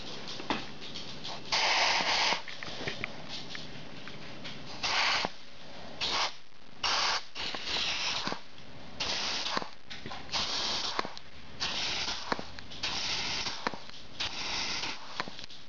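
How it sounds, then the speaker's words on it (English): Compressed air blown in repeated bursts into a clutch passage of a 350 automatic transmission, giving loud hissing blasts separated by short pauses and faint mechanical clicks, with no talking. "put a little air in this hole right here, and you should see the clutch is tighten up"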